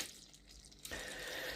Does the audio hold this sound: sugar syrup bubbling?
yes